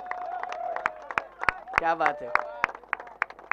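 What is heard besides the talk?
applause for Tabrez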